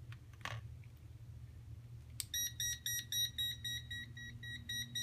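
A Sperry ET64220 wire tracer receiver gives off a series of rapid, high-pitched electronic beeps in short bursts, nearby and moderately loud over a low background hum, with a brief click just before.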